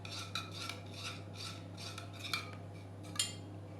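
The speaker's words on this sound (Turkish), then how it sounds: "Üzerine de yarım su bardağı sıvı yağ ilave ediyorum. Ve karıştırıyorum." A utensil stirs melted butter and vegetable oil in a bowl, a rhythmic scraping swirl with a few sharper clinks against the side, close by over a steady low hum, with no talk.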